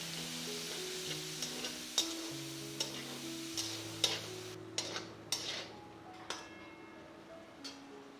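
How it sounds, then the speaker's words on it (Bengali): Chopped onion fries quietly in oil in a village-style kitchen, a soft sizzle under sharp scattered clicks and taps of a spatula stirring against the pan, with a faint low hum throughout. "খুন্তি দিয়ে ভালো করে পেঁয়াজটাকে তেলের মধ্যে হালকা করে ফ্রাই করে নেব।"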